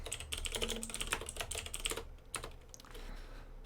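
Fingers tap out code on a computer keyboard in quick, uneven bursts of close, crisp keystrokes. A short pause breaks the flurry before a few more scattered presses, with no voices.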